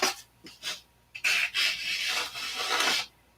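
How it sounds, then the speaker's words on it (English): Hand sanding on a thin wooden aircraft-model cockpit piece near the cowl, a series of close rasping strokes, a few short ones then longer sustained rubs, with no talk. "Be careful when you're sanding this, because you can break that wood real easy"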